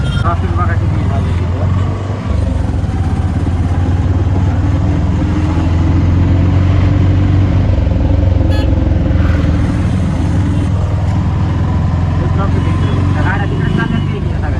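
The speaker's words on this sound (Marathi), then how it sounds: "ट्रॉफिक बघा किती झाली" Heavy road traffic of cars and motorcycles near an agricultural exhibition in Baramati, a loud steady rumble of engines passing close by, with people talking over the din.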